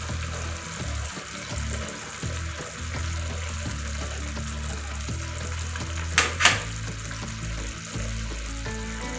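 A tomato and pea curry sizzles and fries steadily in a pan as curd is added, with a couple of brief splashy bursts near the end.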